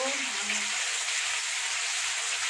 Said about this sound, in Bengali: আদা বাটা, তারপর দিয়ে দেব রসুন বাটা, দিয়ে ভালো করে ভেজে নেব